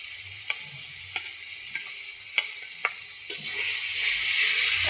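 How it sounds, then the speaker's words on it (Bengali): Onion, cinnamon, cardamom, bay leaf, garlic and ginger paste fry in hot oil for a pigeon curry, a steady close sizzle with a few sharp clicks of stirring that grows louder and hissier toward the end. "এখন পেঁয়াজ দারচিনি এলাচি তেজপাতা দিয়ে রাখছি, এখন রসুন দিচ্ছি, এখন আদা বাটা দিয়ে"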